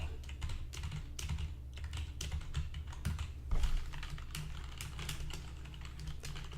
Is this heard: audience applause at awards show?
no